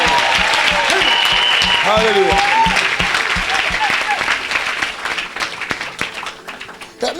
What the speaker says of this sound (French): Put your hands together for the Lord.